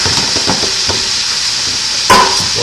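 Potatoes tossed into a hot pan on a home stove fry with a steady broadband sizzle, a few stirring clinks and one louder scrape or clatter partway through.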